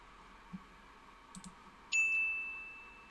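A computer mouse gives a few faint, isolated clicks, followed by a brief soft chime tone, quiet against a still background with no talking.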